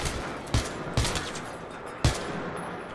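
Gunfire in the video game Battlefield 3, with a few sharp shots at irregular intervals standing out over a steady background of battle noise, and no talking.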